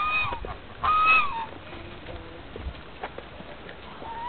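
A goose honks loudly in a harsh burst of calls near the one-second mark, with fainter scattered honks and outdoor rustling around it.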